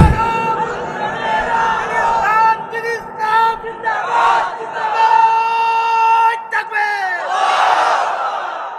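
A large rally crowd in Koyra, Bangladesh, answers a takbir call with a loud unison chant of massed voices. The roar rises and falls in waves and fills the whole stretch.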